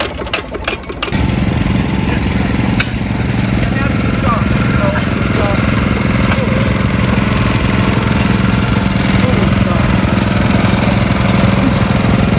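An antique hit and miss engine runs steadily at an outdoor antique engine and tractor show, a loud continuous low chugging that holds throughout after a brief noisy start.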